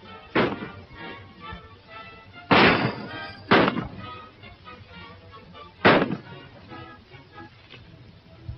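Gunshots ring out in a shootout in an old western movie: four sharp, loud cracks spaced irregularly over several seconds, with quieter background between them.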